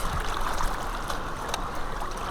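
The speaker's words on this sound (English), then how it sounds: "Here comes the water." Water pours steadily over a metal hinge found on the River Thames foreshore while mudlarking, making a continuous, even splashing rush that lasts throughout with no talking.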